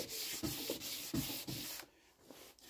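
Guide coat is sanded by hand to take out a mark while prepping a car panel for a 2K paint respray at home. Close, rhythmic rubbing strokes repeat about every half second, then pause briefly.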